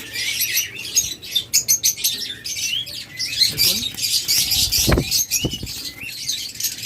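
Diamond doves in a cage setup chirp and twitter continuously nearby, with a few low thumps and rustles mixed in.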